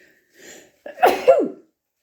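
A single sharp sneeze, preceded by a soft inhaling breath, close and clear in otherwise quiet surroundings.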